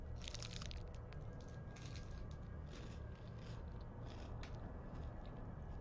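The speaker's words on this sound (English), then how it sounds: "Like chewing noises is probably not the ASMR you were looking for." Someone chews Kinder Bueno chocolate wafer close to the mic, making faint crunchy clicks and soft squishing crackles, densest at the start and then sparser over a low steady hum.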